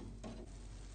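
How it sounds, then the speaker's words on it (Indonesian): Spoon stirring an agar-agar and sugar mixture in a cooking pot, a brief scrape against the metal over steady bubbling hiss, close and quiet. "Kemudian kita aduk hingga mendidih."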